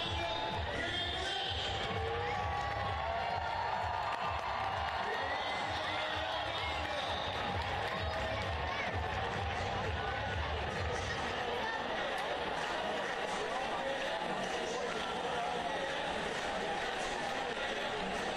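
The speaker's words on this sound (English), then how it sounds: "A record crowd on hand tonight." A record crowd fills a stadium for a USL League One soccer match before a penalty kick, a steady, distant murmur of chatter with faint cheering that rumbles on continuously.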